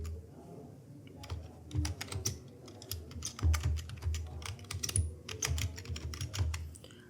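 Steady computer keyboard typing with irregular clusters of sharp key clicks, close and fairly loud, continuing throughout with no voices.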